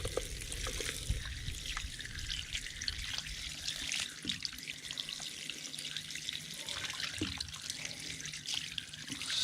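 Water from a tap rinses through a K&N air filter during cleaning, producing a steady, close splashing and trickling stream with small drips, continuous throughout with no talking.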